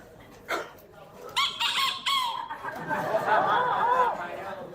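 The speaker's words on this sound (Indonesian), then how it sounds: "Itu suara ayam jantan." A rooster crows in a few bursts amid crowd chatter and background murmur, moderately close and clearly audible.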